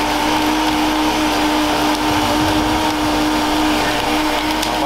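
A blender mixes a grape Grimace Shake, a loud continuous whirring motor drone with a steady hum, close by and unbroken throughout.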